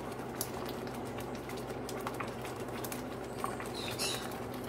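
Corn flour porridge bubbles in a cooking pot, a steady close simmer of soft popping and bursting bubbles with a few sharper pops, no voices.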